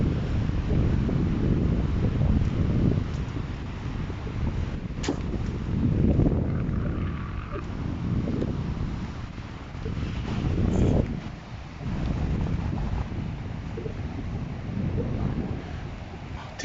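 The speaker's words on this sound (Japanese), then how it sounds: "潮風公園というだけあって海のそばなんですが、波の音がします" Sea waves and strong wind at a seaside park on the coast in Nikaho, a steady roaring wash with buffeting gusts hitting the microphone and no voices.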